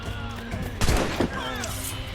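Cannon fire in Assassin's Creed Rogue: a single heavy blast booms out near the middle amid a steady background rumble, with a brief follow-up burst and shouting voices around it.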